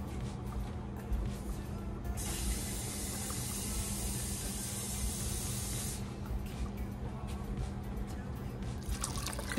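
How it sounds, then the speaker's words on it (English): Water pours into a soup pot in a home kitchen, a bright hissing splash that runs for several seconds over steady background noise, with softer drips and clatter before and after. "We're gonna start adding in our water."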